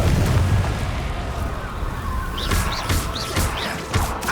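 The Confringo fire-blast spell in the Hogwarts Legacy video game, with a rumbling boom at the start followed by a rapid series of whooshing bursts and pops from mid-distance.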